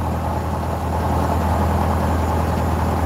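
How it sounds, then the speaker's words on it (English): A light aircraft's engine runs at high RPM during pre-flight power checks, a loud, steady, continuous drone with a strong low rumble and no breaks. "We're gonna set the engine to a high RPM now."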